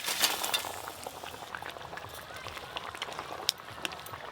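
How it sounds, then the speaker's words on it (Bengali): A pot of fish curry broth with sarputi fish bubbles at a full boil, a soft, steady, low-level simmering hiss with faint scattered pops and small clinks throughout. "ঝোল কিন্তু খুব ভালো করে ফুটে গেছে"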